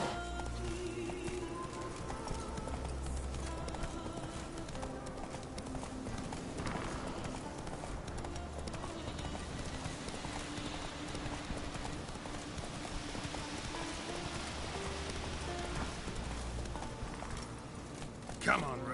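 Roach the horse gallops in The Witcher game, a fast, steady clip-clop of hooves that runs throughout over ambient game sound, with a voice speaking now and then.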